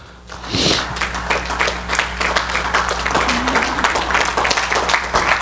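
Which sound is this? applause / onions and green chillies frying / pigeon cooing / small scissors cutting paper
applause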